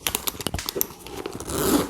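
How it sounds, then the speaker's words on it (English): A zipper slides along a pocket on a Fendi handbag, producing a string of quick ticking rasps close by, followed by a smoother, rising scrape as the pull runs along the track. "that's a nice smooth zipper"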